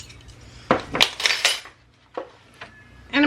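Metal utensil stirring a batter of egg, salt and milk in a bowl, giving several scraping, clinking bursts close up, pausing, then resuming.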